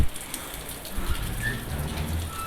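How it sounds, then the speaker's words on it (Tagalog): Steady typhoon rain hiss fills the background, with soft low rumble and no voices; a moderate, continuous downpour. "Lakas ng ulan"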